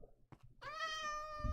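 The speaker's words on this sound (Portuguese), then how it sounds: "Ai, que susto, é um gato." A single drawn-out, clear meow from a cat in the Minecraft video game, close and fairly loud, following a few soft thumps.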